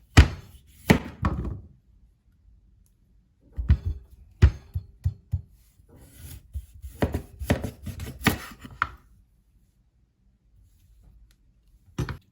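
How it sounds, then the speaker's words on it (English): A rutabaga being peeled and diced in a home kitchen: irregular knife thunks and chops on a cutting board, several close, sharp hits in short bursts separated by quiet gaps. "I'm going to peel and dice this rutabaga."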